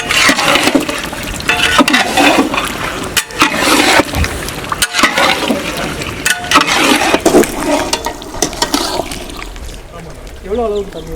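Water is poured and sloshes into a pot for Salem-style chicken dum biryani, a rushing, splashing fill that swells and churns, with a voice talking over it.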